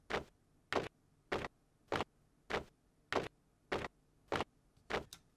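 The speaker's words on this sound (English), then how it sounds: "I want to add like this effects of a marching army" Steady, evenly spaced thuds, nine in a row about every half second, like boots striking the ground in a march. Close and dry, with no voices.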